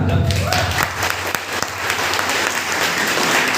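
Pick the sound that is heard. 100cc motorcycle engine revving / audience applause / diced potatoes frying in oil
audience applause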